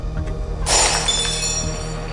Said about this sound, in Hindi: फिर करीब 30 मिनट्स के बाद बाथरूम के अंदर से कांच के टूटने की आवाज आती है।